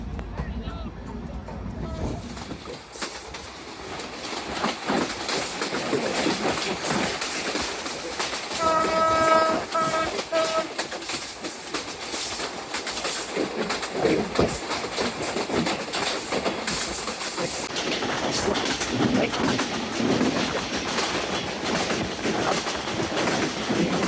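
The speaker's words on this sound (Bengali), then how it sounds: "আমাদের ট্রেনটি এখন Rupdia rail station through pass করে পুনরায় যে যশোর জংশনের মেন লাইন, সে মেন লাইনে প্রবেশ করছে ধীর গতিতে" A passenger train on the Dhaka–Benapole route rolls slowly through Rupdia station onto the Jessore junction main line, with continuous wheel clatter and rumble and a horn blast sounding midway.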